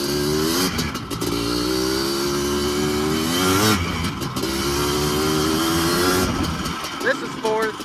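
A Yamaha Blaster ATV engine revs hard while it is ridden up through the gears. The loud, close whine climbs and then drops at each gear change, and the engine drone runs steadily throughout.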